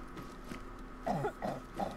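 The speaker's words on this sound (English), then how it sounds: "He's coughing." A few soft, muffled coughs from a character in the video game DayZ come in quick succession, fairly quiet against a low steady background hum.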